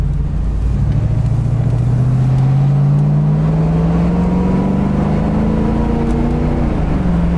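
A 1991 Ford Mustang GT convertible accelerating, its low V8 rumble rising steadily in pitch for several seconds before easing back, heard close and loud with no talking.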